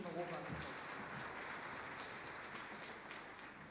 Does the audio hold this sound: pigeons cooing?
no